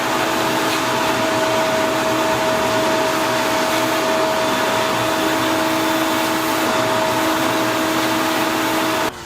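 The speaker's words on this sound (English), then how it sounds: "So let's vacuum this off one more time." A shop vac runs steadily, pulling dust off oak cabinets during refinishing, a constant close whine with two steady tones holding unbroken throughout.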